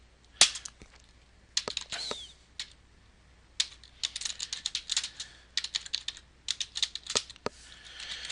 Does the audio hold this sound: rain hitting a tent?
no